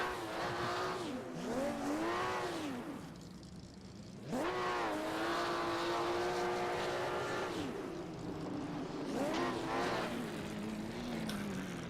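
A high-revving historic sportscar engine in a Le Mans racing video game screams and shifts pitch through several runs, sweeping up and down as it accelerates and lets off, loud and continuous.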